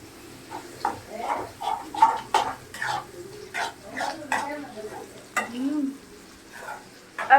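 Prawns from a backwater lake frying in a home kitchen pan, with soft sizzling under repeated clinks and scrapes of a utensil stirring, plus light background voices now and then.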